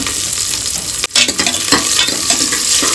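Garlic stir-frying in hot oil gives a loud, close sizzle with scraping stirs, a brief sharp clatter near the middle and a crackling hiss that carries on after it.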